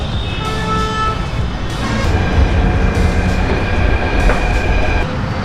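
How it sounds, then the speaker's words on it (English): A metro train at a Jaipur metro station rumbles loudly and steadily with a rail clatter and a brief toot, filling the platform with close, continuous noise. "this is metro station"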